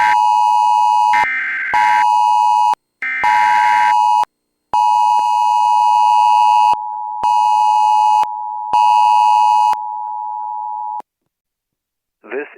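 A NOAA Weather Radio warning alarm tone in a Roblox severe-weather game sounds as a loud, steady electronic beep, broken into long sustained bursts with short gaps, then stops near the end.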